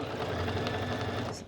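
Sewing machine stitching down a stay-stitch line on a Cashmerette Kimball bomber jacket, a steady close whirring hum that runs continuously with no talk.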